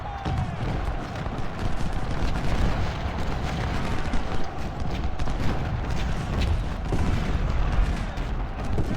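Booming cannon fire rolls across a Civil War battlefield at Shiloh in Ultimate General: Civil War, a steady, dense barrage of distant artillery blasts mixed with musketry and battle din, with a voice speaking faintly over it.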